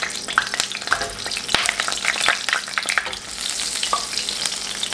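Urad dal vadas for dahi baray fry in hot oil, giving a bright, continuous crackling sizzle with scattered pops and a few utensil clicks as they are turned, close and without speech.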